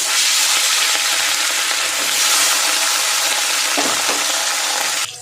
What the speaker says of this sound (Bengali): আর বাকি 2 পিস ভেজে নেব।